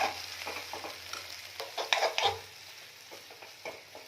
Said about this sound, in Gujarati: હવે આ બધું આપણે એકદમ સરસ મિક્સ કરી લઈશું